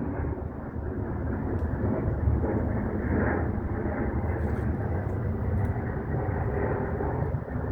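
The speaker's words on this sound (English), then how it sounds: "You might hear sounds of the plane going by." Airplane passing overhead near an airport, a loud continuous low rumbling roar that holds steady for the whole stretch with no speech.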